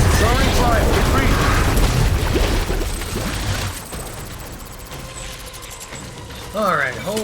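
Cliff hurls fire in the video game Death Stranding, producing loud, continuous roaring bursts and rumbling blasts that crowd the opening seconds, then ease into a lower steady rumble with a brief swell near the end.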